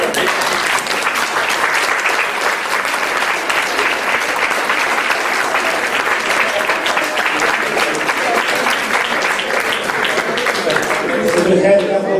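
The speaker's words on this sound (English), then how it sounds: "another big round of applause for our friend Valery" Sustained, dense applause from a conference audience for a speaker, loud and steady throughout with no break.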